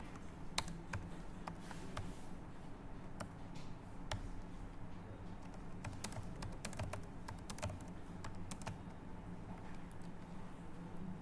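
Rapid keystrokes as code is typed on a computer keyboard for Java exception-handling work, a steady close clatter of uneven clicks running throughout over a low room hum with no voices.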